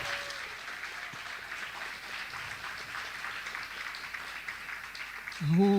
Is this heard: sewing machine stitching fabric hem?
no